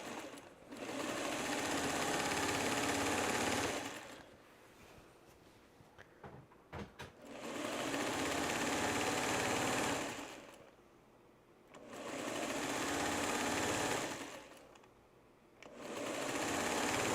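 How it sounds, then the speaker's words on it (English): Singer 99 sewing machine stitching quilt binding: long steady runs of rapid mechanical clicking and whirring, stopping and restarting in repeated cycles, close up with no talk. "when you're sewing, they'll hear the click, click, click of your 99"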